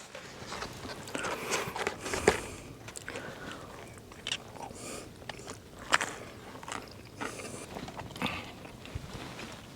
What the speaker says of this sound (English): You used to hear me chewing.